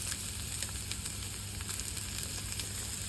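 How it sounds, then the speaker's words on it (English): A New York strip steak sears in a hot pan, giving a steady, close, loud sizzle with crackling pops throughout and no voices. "So I would sear that on the outside."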